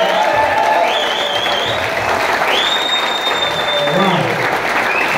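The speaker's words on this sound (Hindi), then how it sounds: "ताली बजा सकते हो, सीटी बजा सकते हो, चिल्ला सकते हो ना।" A large seminar audience in a hall claps loudly and steadily while cheering, shouting and sharp whistles rise over the continuous applause.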